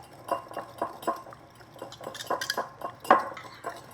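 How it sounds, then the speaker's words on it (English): Egg yolks are whisked in a bowl, a whisk rapidly clinking and scraping against the sides in quick rhythmic strokes, soft and close with no voices. "add it as we continue to whisk our egg yolks"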